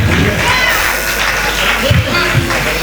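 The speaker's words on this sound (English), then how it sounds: "Big round of applause for him, please." A crowd applauds and cheers for Shino Bakare at Victor Olaiya's stage anniversary show, a continuous dense roar of clapping and shouts, loud and near.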